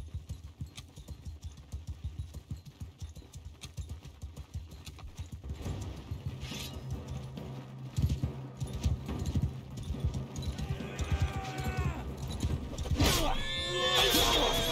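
Horses in a Mount and Blade 2 Bannerlord battle, hooves pounding in a steady galloping rhythm over a dense battle din, with several shrill neighs and whinnies rising near the end.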